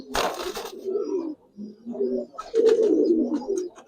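Giribaz and Army pigeons coo close by in several soft, throaty rolling calls with short pauses between them, over a brief burst of rustling at the start.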